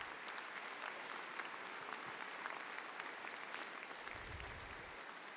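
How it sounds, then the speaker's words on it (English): Sustained audience applause fills a university commencement ceremony for the class of 2019, dense steady clapping from a large crowd with no pauses, heard alone at even loudness throughout. "Let's have a round of applause for all of them."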